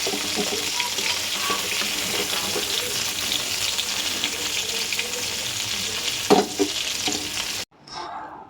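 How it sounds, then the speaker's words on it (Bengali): Fish frying in a pan in a home kitchen, a steady close crackling sizzle that runs throughout, with a clatter near the end before it cuts out. "প্রথমে আমি এই যে মাছগুলো ভেজে নিচ্ছি"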